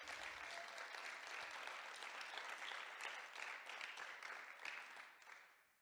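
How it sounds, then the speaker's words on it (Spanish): Church congregation clapping together in a worship service, a dense steady wash of applause that holds for several seconds before tapering off at the end, with no voices over it. "¿Le va a dar ese aplauso al Señor?"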